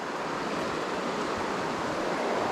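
Heavy, fast-flowing river water during a Euro nymphing fly-fishing drift, a dense steady rushing roar with no breaks, loud and close.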